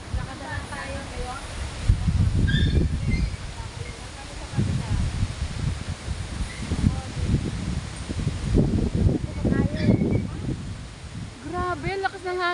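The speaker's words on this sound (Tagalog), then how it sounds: "Grabe, lakas ng hangin niya, oh." Strong wind buffets the microphone in loud low rumbling gusts, with people talking over it throughout.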